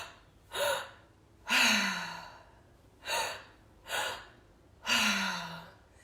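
Five deep breaths drawn in through an open mouth, alternating longer and shorter, each a loud airy gasp rising then cut off, with quiet pauses between.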